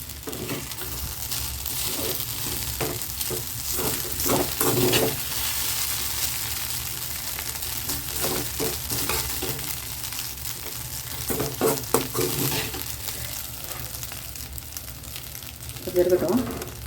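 Egg being stirred into ragi semiya upma in a pan, with soft scraping strokes and light sizzling in irregular bursts, close up, a voice talking now and then.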